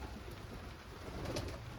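Pigeons cooing softly at a home loft on a rainy day, a low murmur of calls under steady background noise.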